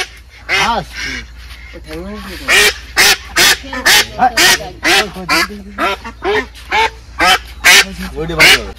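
Ducks quacking repeatedly at close range in a rural courtyard, a rapid series of loud, nasal calls in uneven bursts, with a voice occasionally talking among them.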